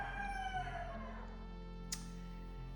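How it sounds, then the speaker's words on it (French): A rooster crows in the countryside, a faint, drawn-out call set against a steady low hum and a quiet rural background, with no one talking. "vous devez souvent entendre le coq"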